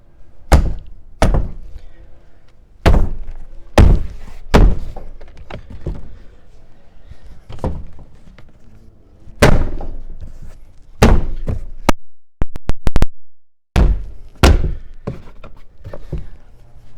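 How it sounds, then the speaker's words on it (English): A 2014-2018 Subaru Forester door panel is pounded back into place by hand: a series of sharp, heavy thunks at irregular intervals as the plastic clips seat one by one, with a brief rattling flurry near the end. "what I like to do is just start pounding it in"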